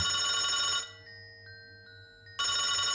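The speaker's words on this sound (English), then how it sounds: "Suddenly, the telephone in the room started ringing." A loud electronic telephone ring sounds, stops briefly with a quiet gap, then starts ringing again, close and bright.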